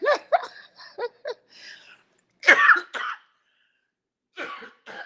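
Several harsh coughs in short clusters, close up, separated by brief silent pauses.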